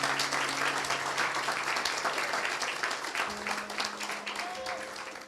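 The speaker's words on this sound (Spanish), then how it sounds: "Denle un fuerte aplauso al Rey de Reyes." Congregation in a church gives a strong round of applause, dense steady clapping filling the whole stretch at a moderate distance with a faint tonal hum underneath.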